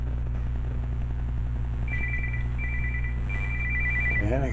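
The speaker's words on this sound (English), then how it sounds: "And I got a phone call." A mobile phone plays a bright repeating electronic ringtone in short bursts during a motorcycle oil change on a 2009 Qlink Commuter 250, set over a steady low engine or shop hum.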